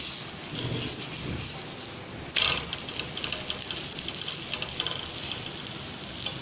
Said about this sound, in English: So we will fry it on a medium flame so it will not get burned.